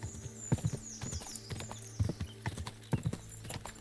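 Hooves of a galloping horse in the video game Kingdom Come: Deliverance II during a horse race, a rapid rhythmic clip-clop at moderate volume with a brief whinny.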